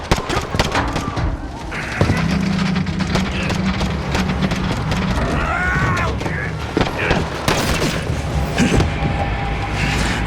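Explosions and gunfire fill a loud urban battle scene in Call of Duty: Modern Warfare, with dense blasts and shots over a rumbling background while soldiers shout in Korean.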